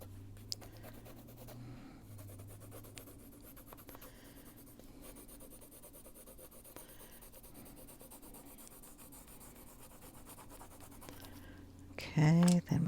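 Colored pencil shading on paper, stroked with the side of the lead, making a soft continuous scratchy rubbing. It runs quiet and steady under low talk, with a louder burst near the end.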